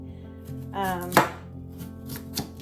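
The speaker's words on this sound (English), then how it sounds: "So kohlrabi needs to be skinned, and it's gonna be tough down here." A knife cuts through tough kohlrabi skin in a few crisp, close chops and scrapes, with one sharp crunch standing out among quieter cuts.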